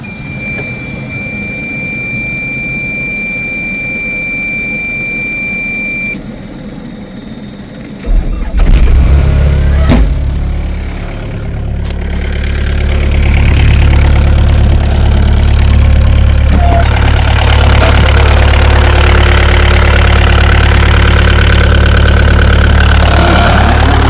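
A turbocharged engine starts and settles into a loud, steady running drone, with exhaust gas leaking at the header pipe, heard up close and alone.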